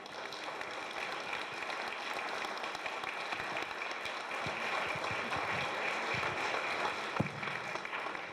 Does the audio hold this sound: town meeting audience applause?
yes